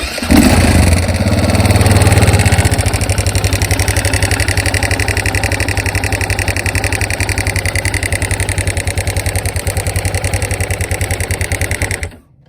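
A KTM motorcycle starts and idles loudly up close, its engine with a fault that gives a rapid, persistent metallic ticking that rattles steadily through the running note until it is switched off.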